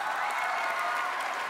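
Steady audience applause on the Marathi comedy show stage of Chala Hawa Yeu Dya, a dense, even clapping that fills the whole short moment without any voice.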